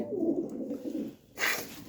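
A pigeon gives a soft, low coo up close, followed by a brief rustling burst, probably its wings or movement, in a short quiet moment.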